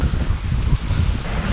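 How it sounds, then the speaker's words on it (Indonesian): Strong wind gusting through a river valley, a steady low-pitched roar buffeting close to the microphone, with rustling underneath and no voices. "Angin ini kenceng, soalnya ini ada di lembah,"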